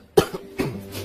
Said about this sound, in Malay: Asyik batuk macam ni.